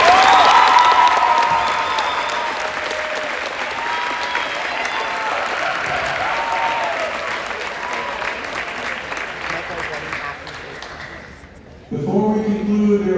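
Sustained applause fills a high school gymnasium or hall during a national signing day event for athletes, loud and steady with a few cheers mixed in, fading toward the end before a voice starts talking.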